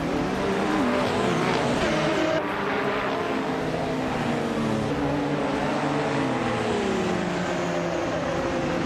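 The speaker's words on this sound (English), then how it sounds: "the race kicks off at the Highlands Motorsport Park long track and Jordanchik is on pole" A 2015 Porsche 919 Hybrid and rival race cars in a racing video game at Highlands Motorsport Park long track, with loud continuous engine whine and shifting revs filling the whole stretch.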